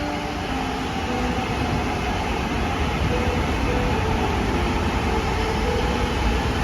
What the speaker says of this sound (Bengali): ট্রেনটা যাচ্ছে ম্যানহাটের দিকে